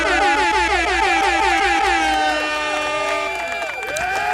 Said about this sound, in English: You get an air horn.